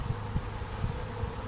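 Honeybees buzz on a hive frame covered in nurse bees, a soft steady drone from many bees close by with no voices.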